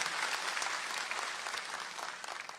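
A seated audience at a teacher appointment-letter ceremony in Dehradun applauds to welcome the chief minister, with dense, continuous clapping held at an even level for a few seconds.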